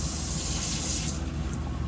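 Water gushing steadily from the tap inside a 2021 Forest River Wolf Pack 355 RV, a continuous close rushing flow with no voices.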